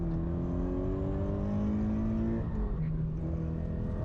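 A street class race car accelerates hard during a time attack hot lap, engine note climbing steadily through the revs before a brief shift and a fresh climb, loud and close throughout.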